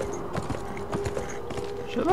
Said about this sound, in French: Le cheval, c'est génial.